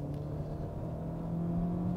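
Renault Mégane TCe 130 in Multisense sport mode accelerating, a steady mid-pitched engine drone with a faint rising hum heard from inside the cabin, no talk.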